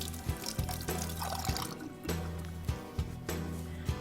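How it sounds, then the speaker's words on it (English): Tap water runs steadily into a kitchen sink while fingers are rinsed under the stream, with splashes and drips breaking the flow over a low background hum. "let me rinse my fingers off a little bit."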